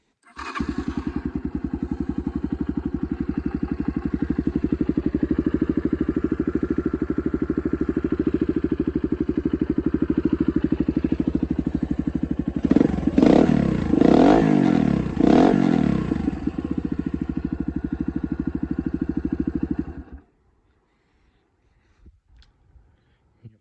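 An SSR 150 pit bike engine starts up and settles into a steady single-cylinder idle, loud and close, with a brief blip of revs in the middle before it cuts off, leaving near silence.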